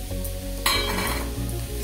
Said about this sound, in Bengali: ডিমটা দিয়ে একটু নাড়িয়ে চাড়িয়ে নেবো।